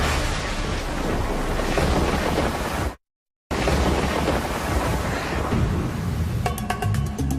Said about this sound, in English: could this be Earth's most powerful lightning?